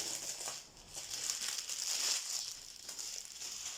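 Crinkly plastic packaging around Christmas decorations being unwrapped, a steady close rustling and crackling that swells and fades over a few seconds with no talking.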